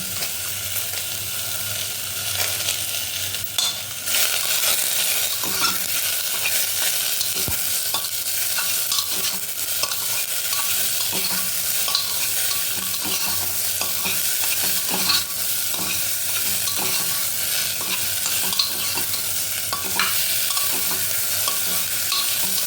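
Carrots and peas fry together in a hot pan, giving a loud, continuous sizzle with frequent scraping stirs throughout, close and steady, with nobody speaking.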